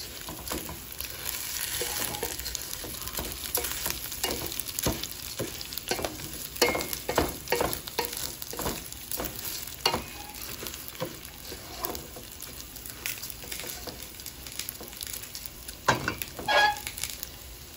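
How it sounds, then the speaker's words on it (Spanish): Rice and onion fry in hot oil for chiles en salsa roja con arroz, sizzling steadily while a spoon stirs and scrapes the pan in repeated clattering strokes. "Ya le pusimos el aceite, lo que es la cebolla. Meneando a que se dore el arroz."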